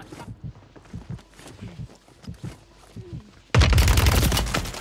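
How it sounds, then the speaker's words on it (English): Video game gunfire: a quiet stretch of soft footsteps and light clatter gives way to a sudden loud, dense burst of shots that fills the last second, close and harsh. "Ooh, shots."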